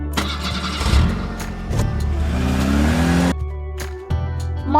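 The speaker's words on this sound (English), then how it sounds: "Jeep." A jeep engine starts and revs, rising and falling loudly up close, then drops to a steadier idle before another rev, with no talk over it.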